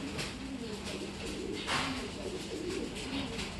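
A bird coos softly several times in a row, close by, with a faint background hum and a brief voice in the background.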